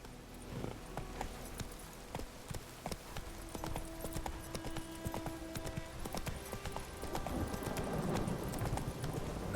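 Hooves of Roach, Geralt's horse in The Witcher 3, clip-clopping at a steady fast gait over ground, with game music and ambience underneath throughout.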